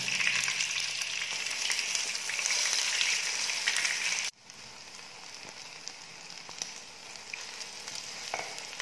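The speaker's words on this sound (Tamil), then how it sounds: "எண்ணெய் ஊற்றி நல்லா வறுத்து எடுத்துக்கோங்க." Potato snacks deep-fry in hot oil with a dense, steady crackling sizzle, loud and close, which quietens suddenly halfway through and carries on more softly.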